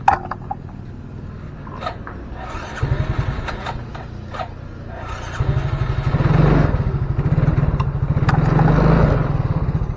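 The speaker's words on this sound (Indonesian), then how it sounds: "Tapi dia injektornya belum nyala ya, kita coba hidupkan." A Yamaha Soul GT 115 fuel-injected motorcycle engine is started and settles into a steady, close idle whose rapid putter grows louder over the last few seconds.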